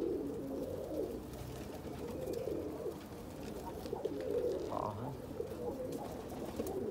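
A flock of red pigeons coos in low, soft, repeated bursts against steady background noise, fairly close and continuous.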